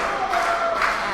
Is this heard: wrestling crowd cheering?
yes